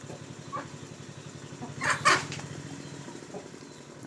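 Chickens in a poultry-farm pen in Kaliganj, Gazipur, where one rooster is kept with five hens, cluck softly and then burst into a short flurry of wing flapping and squawks, all faint against a low background hum.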